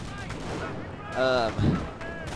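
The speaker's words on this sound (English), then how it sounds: "you're going to see the grenade launchers go to work here" Grenade launchers fire in the WWII strategy game Company of Heroes, with a sharp burst of explosive reports in a short battle mix and a voice briefly heard just before.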